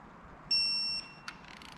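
Digital torque wrench on ARP head studs of an MK5 R32 VR6 turbo engine, giving a single sharp high-pitched beep about half a second long, followed by a faint click.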